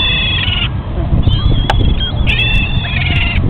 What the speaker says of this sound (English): These are my seagull buddies. They are very loud.